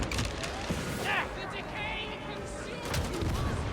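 Enemy gunners open up in the Warhammer Darktide video game, sending bursts of gunfire and volleys echoing through underground sewers, mixed with clanking mechanisms and game effects while someone speaks over the shooting.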